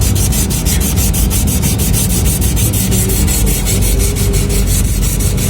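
Sandpaper rubbed by hand along a copper air conditioner refrigerant pipe being prepared for leak repair, a loud, close, rapid back-and-forth scratching in steady strokes throughout with no talking.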